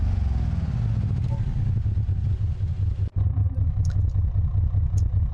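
A 1947 Burnside Special car with an inline-six engine runs at a steady, loud, low rumble that cuts out briefly midway, then resumes unchanged.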